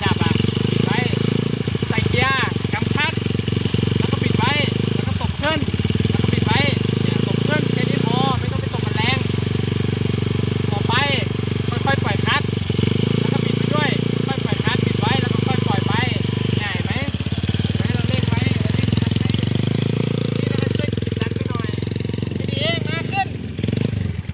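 A Honda Sonic motorcycle engine runs close by, a loud continuous rumbling drone with surges in revs and brief dips, while people talk over it throughout.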